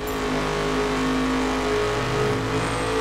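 A tuned street car from The Crew video game driving off-road, its engine droning steadily and loud throughout with no pauses.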